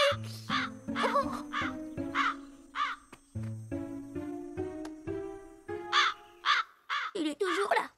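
A cartoon crow caws repeatedly in a rapid, rhythmic series of harsh calls over a running musical or voiced tone, near and prominent, with a flurry of overlapping caws at the end.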